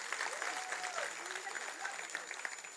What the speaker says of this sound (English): the applause is not good enough